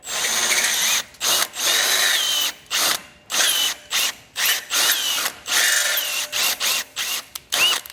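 A power drill widening bracket holes while mounting a base plate kit on a 2021 Jeep Wrangler, whirring in short repeated bursts with brief pauses between, close and fairly loud, its pitch shifting as it bites.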